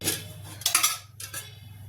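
A metal cooking pot is set down on a stove in a home kitchen, making a few sharp clanks and clinks in quick succession over a low steady hum.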